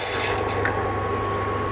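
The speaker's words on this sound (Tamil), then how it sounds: "இதில் வந்து ஒரு 1/2 கப் தண்ணி ஊற்றணும்." Half a cup of water is poured into rice flour for sweet idli batter, making a brief, steady splashing pour close by with no talk.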